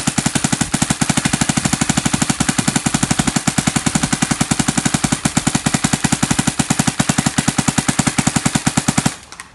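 A DYE DSR paintball gun fires in semi-auto in a rapid, even string of sharp pops for about nine seconds before stopping abruptly.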